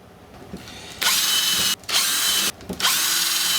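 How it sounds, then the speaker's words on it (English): A power drill bores pilot holes into wood for a bathtub caddy, running in three close, loud bursts of whirring with brief pauses between them. "Go ahead and scribe and pilot hole those."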